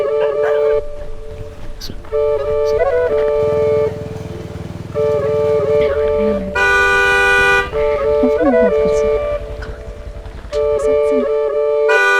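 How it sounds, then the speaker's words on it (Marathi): A car horn sounds again and again in short and long bursts on a road, loud and close, with an engine rumbling underneath. "हॉर्न वाजवलेला ऐकू येत नाही का"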